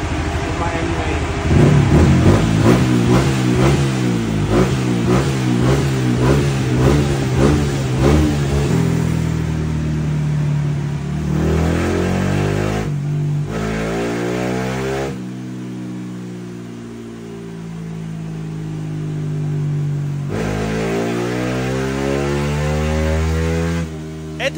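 A tuned motorcycle with a UMA M9 ECU and Replica Pro exhaust pipe revs hard on a dyno, its engine pitch climbing through repeated rising sweeps and sustained high-rev pulls, loud and close throughout.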